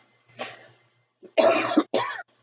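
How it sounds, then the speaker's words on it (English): A few close, dry coughs in quick succession: one short hack, then two harder bursts, with silence between. "When I talk a lot, I always cough."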